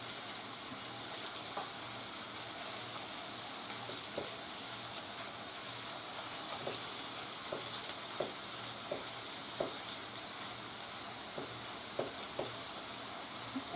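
Mini hamburger sliders fry in a pan with a steady, moderately quiet sizzle, dotted with small pops and occasional faint scrapes.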